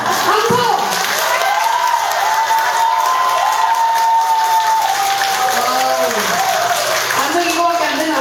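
An audience at a Buddhist dharma talk on the climate crisis applauds in a dense, loud roar of clapping and cheering, with voices rising over it throughout.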